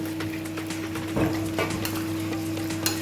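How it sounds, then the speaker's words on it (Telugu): Leftover chicken marinade masala sizzles as it fries in a pan, with a steady close hiss, occasional stirring scrapes and light utensil clinks against the metal. "ఫ్రై అవుతుంది కదా"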